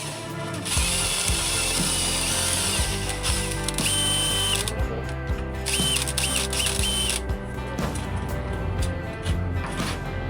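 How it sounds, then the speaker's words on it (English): Power tool mixing two-part epoxy for extending a custom catamaran hull, a continuous whirring, ratcheting mechanical drone running steadily throughout with slight changes in pitch and load. "we opted for power tools over hand mixing"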